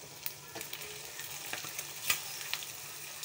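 Chicken liver fries with green chillies in a pan, a soft continuous sizzle with scattered crackles and pops, fairly quiet and close.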